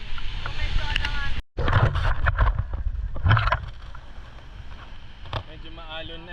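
Choppy, rough sea slaps and rushes around a tour boat off El Nido, with steady wind buffeting the microphone and a brief dropout. People talk over the wash of the waves.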